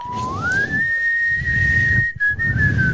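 A man on a podcast whistles a single clear note near the microphone, sliding upward and holding steady for about two seconds, with a brief break near the end and no talking over it.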